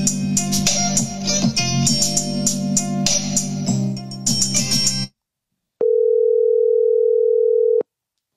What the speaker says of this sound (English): I'm trying to call Kiki Kike.